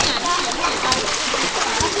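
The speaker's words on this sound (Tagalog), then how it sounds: "Hey, wave pool! Wave pool!" Water splashing and sloshing in a wave pool at a water park, a steady, dense wash of splashes continuing throughout, with voices present.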